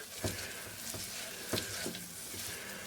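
A thick flour paste cooks in a pan for pork enchiladas, giving a soft, steady sizzle with a few quiet scraping stirs spaced through it, faint and close, with no talking.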